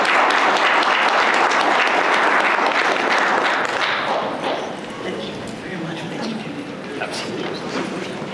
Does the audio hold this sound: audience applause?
yes